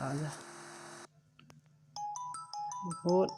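A phone ringtone sounds during a live Free Fire solo-versus-squad game, a short series of bright repeated electronic tones after a burst of game noise, fairly close and clear.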